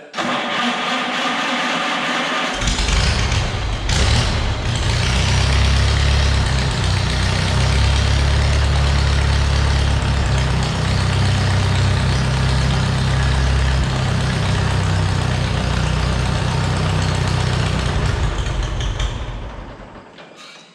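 An Oliver 660 tractor engine running rough as it floods out, a loud, close, low chugging drone that kicks in after a quiet start, holds steady for most of the stretch, then dies away at the end, with no talking.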